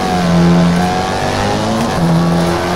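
A rally car in the WRC 3 racing game swings through a handbrake hairpin, its engine droning loudly and steadily as it revs, with a brief scrub of tires sliding on the surface.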